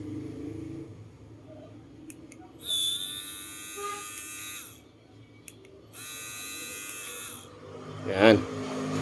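A small electric motor in a portable water dispenser whirs in short bursts after being repaired, a thin high buzzing that starts and stops twice, with faint handling noises around it.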